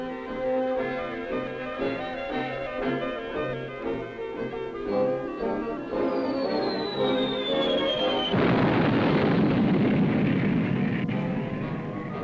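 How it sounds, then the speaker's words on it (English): Live bombs exploding on a grounded oil tanker: a sudden broad roar of blasts bursts in late, rumbling loud and dense beneath an ongoing bed of orchestral music, with a descending whistle-like tone just before. "It was a rare chance to drop live bombs on a real target"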